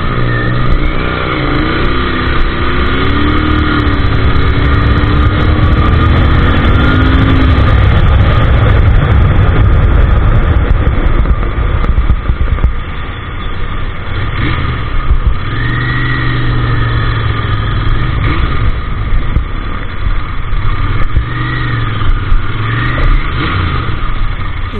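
A Royal Enfield Interceptor 650 from 2024, still being run in, has its engine running steadily and loudly throughout, a continuous rumble with several rising and falling rev swells.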